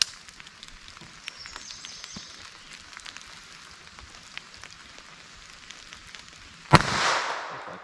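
A handcannon handgun fires a single CCI lead round nose round, giving a sharp loud crack with a short ringing tail after several seconds of faint scattered clicks.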